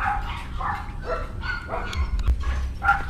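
Several dogs yip and bark in short, high bursts at close range in a flower garden, with a steady low rumble underneath.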